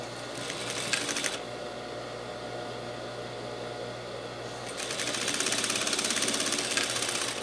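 A sewing machine stitches the lining of a fabric piece, a steady mechanical whir with rapid needle rattle that eases off briefly and then speeds up louder, with no voices.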